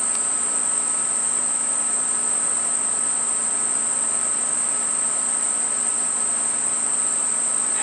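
Honey bees hum inside an opened hive, a steady, dense, unbroken drone with a constant high whine throughout and no voices.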